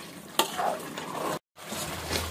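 Chicken curry being sautéed and stirred in a pan with hot water added, a close, steady sizzle with stirring scrapes, briefly cut off before resuming.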